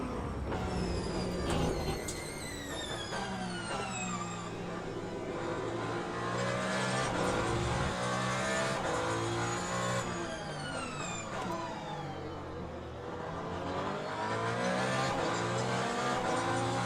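LMP prototype race cars in the Le Mans Ultimate sim race scream continuously at high revs, with repeated rising and falling gear-change sweeps and overlapping engine notes from nearby cars.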